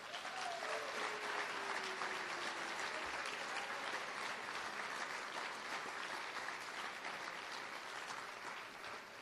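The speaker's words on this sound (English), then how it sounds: "How about one last hand for all the inductees?" Audience applause for West Coast Conference Hall of Honor inductees at a morning ceremony, a steady, dense clapping from a large crowd that holds evenly throughout without talk.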